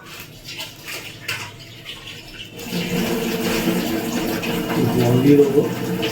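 Water poured into a poppy-seed paste mixture for a steamed pabda fish dish, a steady close splashing pour that starts midway and continues, with kitchen clatter and a voice talking over it.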